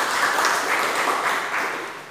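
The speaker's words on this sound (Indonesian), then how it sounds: "Kita beri tepuk tangan untuk Mas Tito." A classroom of students claps briefly for a classmate who answered correctly, giving a steady, moderately loud patter of hands for about two seconds that begins to fade at the end.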